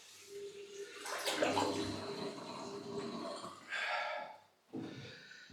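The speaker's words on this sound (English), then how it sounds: "Let the water out." Water draining out of a bathroom sink after a wet shave, a gurgling, rushing flow that swells and briefly cuts off near the end, heard up close with no talk.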